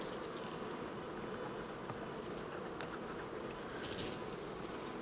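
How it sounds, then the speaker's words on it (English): Dense, steady buzzing of many bees inside an opened beehive, a continuous close-up drone with one brief sharp click partway through and no talking. "There's quite a lot of bees in here."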